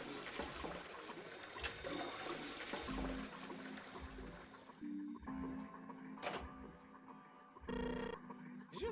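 Toilet flushing in the Zero Escape video game, heard as a watery rush with trickling, set under a low game drone and occasional voices talking.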